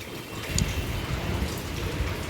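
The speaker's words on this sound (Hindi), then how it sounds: "पानी बरसने लगा," Steady light rain falls outdoors in a village near Dehradun during windy, cold weather, a continuous soft patter with scattered drops tapping nearby surfaces.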